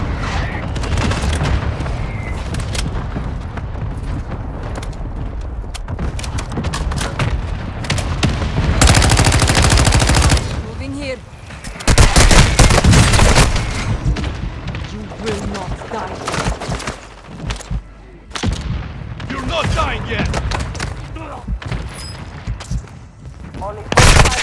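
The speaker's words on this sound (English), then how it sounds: "Hostile mortar strike incoming." Mortar strike explosions and gunfire in the video game Call of Duty: Warzone 2.0 come as dense, loud bursts of shots and heavy booms, with the strongest blasts in the middle and near the end. Radio-style game voices call out over the barrage.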